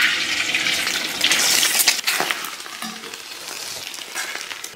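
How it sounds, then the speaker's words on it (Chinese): Two eggs hit hot oil in a wok and sizzle and crackle vigorously, a bright, close frying hiss that swells and settles over a few seconds. "然后咱们给锅里边稍微来点油，先给里边来两颗鸡蛋"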